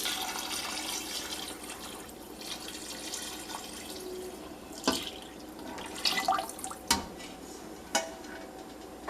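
Chicken broth is poured slowly into a pot for a pork and collard green stew, a faint, continuous liquid trickle broken by a few sharp metallic clinks from the cookware.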